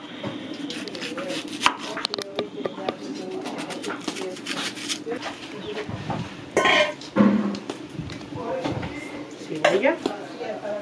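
Onions and peppers chopped on a board for a Dominican countryside fried chicken meal, a steady run of close knife taps mixed with birds cooing nearby and people talking.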